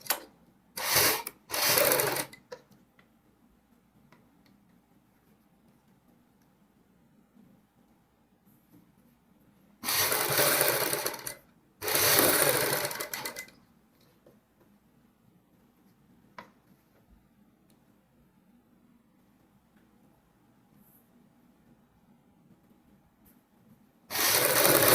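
Sewing machine running in short bursts while stitching piping along a folded blouse neck edge, with several quick runs early on, two longer runs midway and one at the end, separated by quiet pauses.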